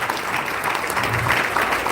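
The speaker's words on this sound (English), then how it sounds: "Another round of applause for Coach David O'Neal for me" Applause from a gala audience at a Juneteenth scholarship event, a steady dense patter of clapping filling the whole stretch at moderate loudness, with faint crowd murmur underneath.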